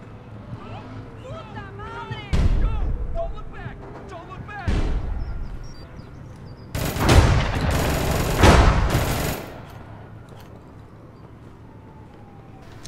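Gunfire in the online shooter APB Reloaded comes in a few heavy bursts, one early, one mid-way and a longer loud volley near the end, with players talking over the action before it fades.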